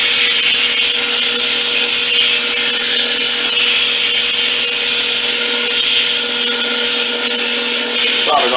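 A long wooden piece spinning on a lathe is sanded with 100-grit sandpaper. A loud, continuous broadband rasp sits over the lathe's steady motor hum and stays constant throughout.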